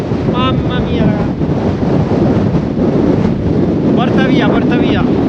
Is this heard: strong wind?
yes